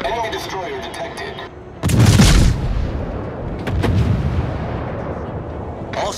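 Naval guns firing at an enemy warship in a video game battle: two loud booming blasts with rumbling tails a couple of seconds apart, over a steady background hum, with a voice at the start.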